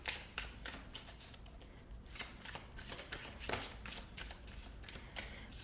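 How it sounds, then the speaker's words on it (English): Tarot cards are shuffled by hand in a steady, close riffle of papery flicks and soft slaps, with bursts of rapid snapping between quieter shuffling; no one talks. "we will shuffle the cards together to get your answer from Spirit"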